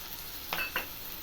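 Onion and ginger frying in a pan for rava uppittu, a quiet background sizzle broken by two brief scraping stirs close together.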